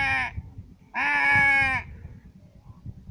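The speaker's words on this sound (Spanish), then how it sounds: "Una oveja." A sheep gives two clear, nasal bleats close by, a short one followed by a longer, wavering call, then quiet.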